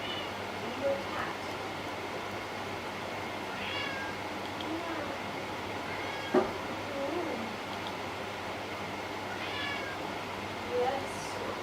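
A cat meows several times indoors, short faint calls spread across the clip over a low steady hum.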